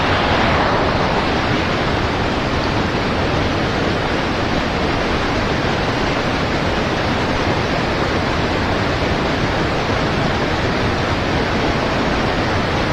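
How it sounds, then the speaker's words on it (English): Loud, steady rushing water roars without a break at a spillway on the Fox River, a dense continuous wash of noise close by with no voices. "The water is pretty strong."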